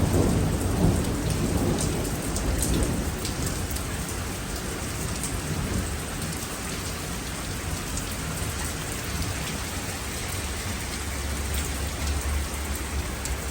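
Heavy rain pours on surfaces during a night thunderstorm in London. A dense, continuous roar of rain is heard close by, with low rumbles of thunder rolling beneath it.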